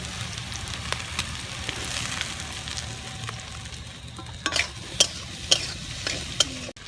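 Onion, potato, carrot and capsicum stir-fried for chowmein, a steady close sizzle with scraping spatula strokes and sharp clanks against the pan growing louder toward the end, no voices.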